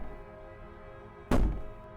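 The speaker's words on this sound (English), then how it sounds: "You close the basement door, locking it behind." A single heavy thunk of a basement door shutting in the Slay the Princess video game, one sharp close impact that decays quickly over a low steady background hum.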